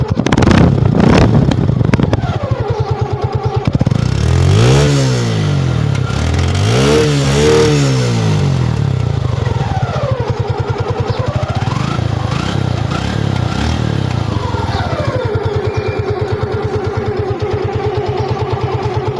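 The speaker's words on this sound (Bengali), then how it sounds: "বাইকটা স্টার্ট দিই। বাইকটা স্টার্ট হয়ে গেছে।" A Suzuki Gixxer Monotone motorcycle in fresh condition starts up close by and runs loudly, its engine revving up and down in several distinct rising and falling sweeps over a steady idle.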